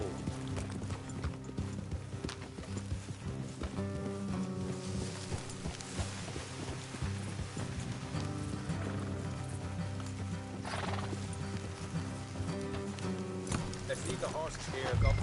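Rhythmic clip-clop of horse hooves on a road in Red Dead Redemption 2, steady and moderately loud, under a layer of game music and ambient sound.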